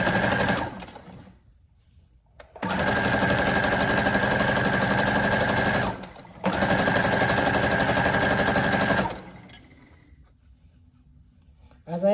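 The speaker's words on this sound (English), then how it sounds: "I'm using my Brother CS 6000i computerized sewing machine" A Brother CS 6000i computerized sewing machine stitches in two sustained bursts of rapid, buzzing mechanical chatter, separated by a short pause and fading to quiet at the end.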